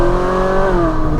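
A Ferrari 458 Spider engine holds a loud, close, steady rev with a strong tonal whine that dips slightly in pitch toward the end.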